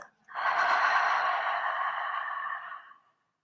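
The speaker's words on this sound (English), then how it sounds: "Take a deep breath in" A slow, deep breath out during a guided meditation, a single close, breathy exhale that rises quickly, holds steady for a few seconds and fades out into silence.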